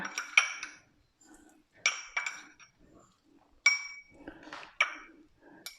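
Spoon clinking against a bowl while toasted rice is added to a spicy Thai chicken salad, several sharp close taps and scrapes in short bursts with quiet gaps between.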